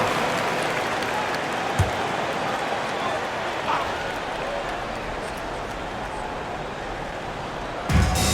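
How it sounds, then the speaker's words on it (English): Steady crowd applause fills a basketball arena in NBA 2K25 during a Jazz timeout, a continuous wash of clapping at moderate level, with a couple of brief thumps. "Give yourself a round of applause."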